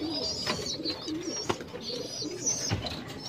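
Pet pigeons in a loft coo softly at close range, low murmuring calls mixed with scattered chirps and occasional taps or wing movement, no talking.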